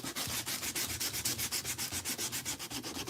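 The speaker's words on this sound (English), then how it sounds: "I usually just sand the front part" Rhythmic back-and-forth sanding on the front face of a handmade reindeer craft piece, steady rasping strokes about six per second, close and fairly loud, with no voices.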